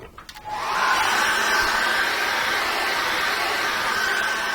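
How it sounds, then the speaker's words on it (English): A hair dryer switches on after a brief rustle and blows steadily and loudly, a constant whooshing drone with a faint high whine. "I'm going to dry that off with a hairdryer"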